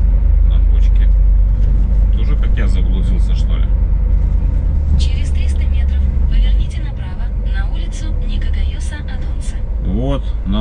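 A large vehicle rolls past on an open road between Gyumri and Yerevan, its heavy engine rumble loud and continuous under the steady drone of the car's own interior, with a voice speaking briefly over it.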